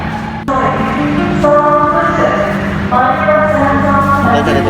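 A train's horn sounds in sustained, layered tones over a steady rumble of machinery, loud and close, as a Palembang LRT light rail train pulls into a station.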